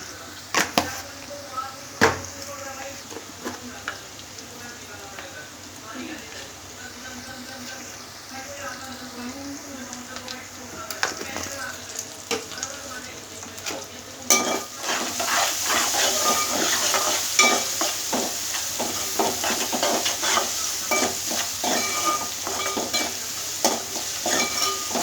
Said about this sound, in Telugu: మంచిగా ఫ్రై చేసుకొని ఇలాగా.